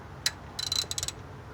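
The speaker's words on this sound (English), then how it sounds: "we'll torque it down a little bit more" A ratchet with a deep socket torques down a fitting near a fuel line, giving a single click followed by a short burst of quick clicks. The clicks are close and faint, with no voices.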